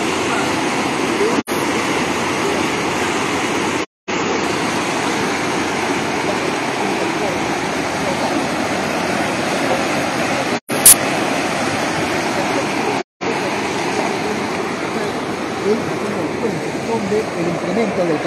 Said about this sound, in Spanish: está lleno e incluso está carcomiendo alguna parte de las orillas del río.